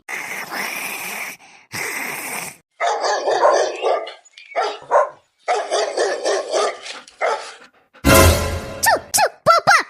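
Cartoon dogs barking loudly and close, a rapid series of sharp barks and yips in clustered bursts with brief pauses, ending in high whining cries.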